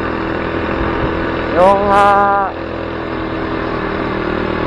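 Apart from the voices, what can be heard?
Chinaped Zip 49cc 4-stroke scooter engine running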